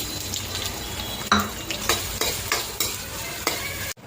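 Onions tossed into a hot pan after bitter gourd pieces, stirred with a utensil: steady sizzling frying with repeated scraping and clinking stirs at a close distance, no talking.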